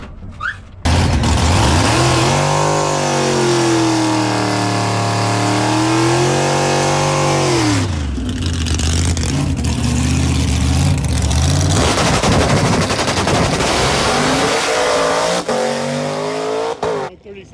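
Blasphemi, a drag race car with a new engine, makes a run: a loud, close, continuous roar whose pitch climbs and drops in sweeping surges through the gears before cutting off at the end.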